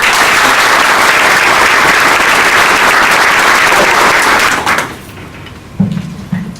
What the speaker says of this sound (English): Can we get another round of applause for all the members?